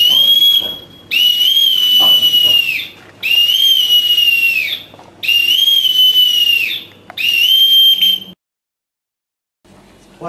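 A boatswain's pipe sounds at a naval memorial ceremony for French navy commandos: five long, loud shrill whistle calls with brief gaps, each rising then holding steady, ending in silence.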